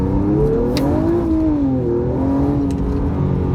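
A Nissan Z with a cold air intake and bolt-on upgrades pulls hard from inside the cabin, its engine note climbing, dipping at a shift, then rising again in a loud, steady roar.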